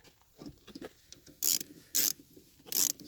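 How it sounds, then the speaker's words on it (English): Plastic reverse light housing on a Hummer H3 being refastened, with three short, loud ratcheting bursts of a screwdriver driving screws, separated by quieter clicks and handling noise. "And then we just place our screws back in."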